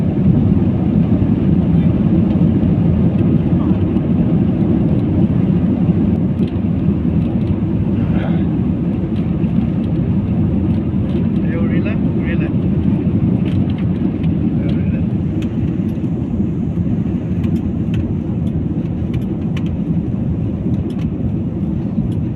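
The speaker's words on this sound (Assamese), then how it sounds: "এতিয়া আমাৰ বিমানখন চলিবলৈ আৰম্ভ কৰিছে।" Steady, loud low rumble of a passenger plane's engines as it begins rolling along the runway on a Guwahati to Jorhat flight, heard from inside the cabin as a continuous broadband roar without clear speech.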